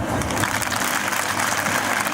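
Dense, steady applause from an Independence Day audience after a Rajasthani heroic saga performance, continuous and close.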